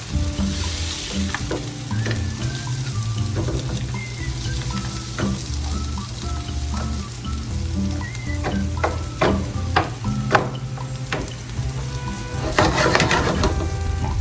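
Bacon grease sizzles steadily in a hot pan while a utensil stirs and scrapes through it, with scattered clinks of metal against the pan.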